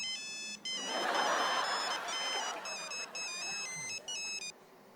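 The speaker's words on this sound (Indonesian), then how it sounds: "Mas Sai, handphonenya bunyi tuh." A mobile phone ringtone plays a bright, repeating electronic melody in short phrases over a faint background hiss.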